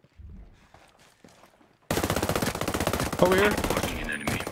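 Sustained automatic gunfire from a Ghost Recon Breakpoint PvP match, loud and rapid, erupting after a quiet stretch and continuing steadily to the end, with a brief voice heard before it starts.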